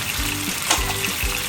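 Green chilies and curry leaves fry in a pan for a ridge gourd and bottle gourd chutney, giving a steady close sizzle with low bubbling pulses and a brief brighter crackle in the middle.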